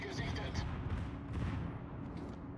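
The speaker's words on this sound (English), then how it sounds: "Bigoldandrew is just firing shells all over the place in secondaries" Secondary guns of the battleship Pommern in World of Warships firing shells, a dense rumble of repeated distant-sounding shots and booms, with a voice talking over them.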